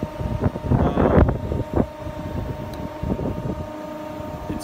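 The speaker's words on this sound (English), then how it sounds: "It's really windy today" Gusty wind buffets the microphone in low rumbling surges, strongest early on, then settling into a steadier blustery roar.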